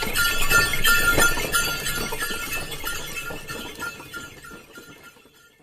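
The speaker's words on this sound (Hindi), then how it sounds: "Bullock cart." Rattling, clanking wooden and metal knocks with jingling bells and creaks, like a bullock cart rolling past, slowly fading away.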